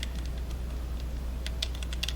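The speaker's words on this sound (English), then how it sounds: "A lot of typewriters." Typewriters clack in an abandoned office in the game Portal Stories: Mel, with quick irregular keystrokes, some in short bursts, heard fairly close over a steady low hum.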